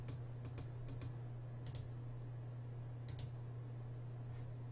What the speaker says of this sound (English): my mouse clicks are kind of loud